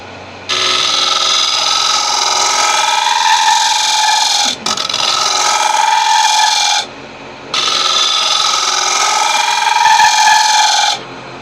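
Negative rake scraper cutting the inside of a wooden bowl on a lathe, two long loud continuous rasping passes separated by brief pauses, close and unaccompanied by talk.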